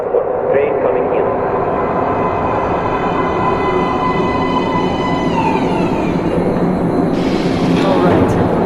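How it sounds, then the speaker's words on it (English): In Metro Last Light Redux, a metro train rolls into an underground platform with a loud, continuous rumble and a high, falling wheel squeal as it slows. "Please step away from the edge of the platform. Train coming in."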